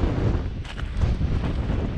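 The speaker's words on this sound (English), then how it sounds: "But it's super windy up here on the plains." Strong wind on a Mojave ridge, buffeting the microphone as a loud, rough low roar with uneven gusts over two seconds.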